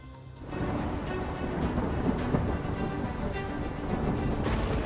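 Heavy monsoon downpour in South Gujarat hisses in a dense, continuous roar, with low thunder rumbling beneath the steady rain throughout.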